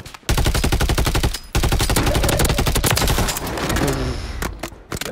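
Loud, rapid bursts of battle rifle fire from the video game Modern Warfare III on the Vondel map, with short gaps between volleys and dense repeated shots filling most of the stretch.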